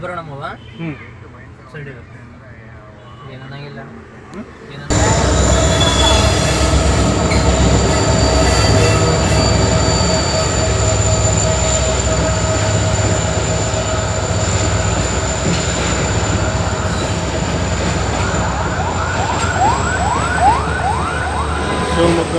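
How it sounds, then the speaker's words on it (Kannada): A train rumbles past close by through central Shivamogga, India, loud and steady, with squealing wheels and a high sustained tone; a quieter background precedes its sudden arrival. "ಹೋಗ್ತಿರ್ತಕ್ಕಂಥ ರೈಲು ರೈಲಿನ ಒಂದು ನೋಟವನ್ನು ಈ ಸಂದರ್ಭದಲ್ಲಿ ತೋರಿಸಲಿಕ್ಕೆ ಬಯಸಿದ್ದೇನೆ"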